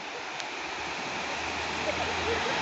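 Water rushes steadily at Chothuparai dam in a forested area, a broad continuous roar of flow heard close up, with a faint low voice murmuring beneath it.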